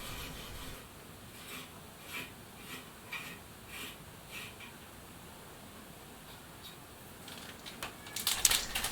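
Threads are cut by hand in aluminum for a thread repair, giving a soft, rhythmic series of raspy scraping strokes roughly once every second, fairly quiet, ending in a louder cluster of scrapes and clicks.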